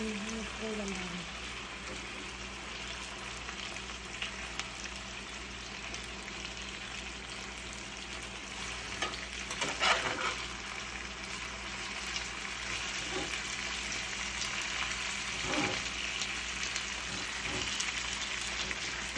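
Beef stew ingredients sizzle steadily in a pot, a continuous close frying hiss with occasional scraping and knocks from stirring, and faint speech in the background.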